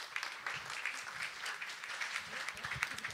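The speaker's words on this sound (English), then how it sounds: "please applaud every single woman that you see today" An audience at a fashion show applauds softly for a few seconds, with continuous distant clapping and no voices.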